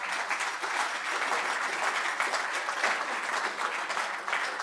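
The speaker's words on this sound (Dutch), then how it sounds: "En u mag hem een applaus geven." An audience at a Rotterdam club gives steady applause, many hands clapping in a dense, even patter that carries on without a break.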